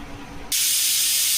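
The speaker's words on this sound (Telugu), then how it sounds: "విజిల్ అయితే వచ్చేస్తుంది" A pressure cooker whistle cuts in partway through as a sudden loud burst of hissing steam and keeps blasting steadily, drowning out the quieter background before it.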